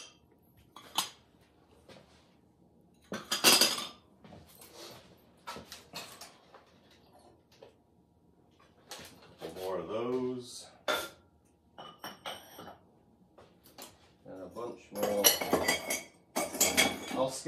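Glazed ceramic butter dishes shaped like birds with a tail and beak, clinking and clattering against each other as they are unloaded from a glaze kiln. The clinks come in scattered bursts, with some talking in between.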